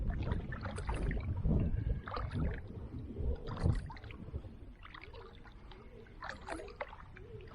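Paddle strokes from a kayak on a quiet river between Maidstone and East Farleigh Lock, with irregular splashes and gurgling water close by, no road noise.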